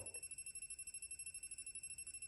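A Tesmen TN-213 AC voltage detector beeps rapidly and steadily, pulsing continuously at a fast even rhythm, high-pitched and fairly faint, with no voices.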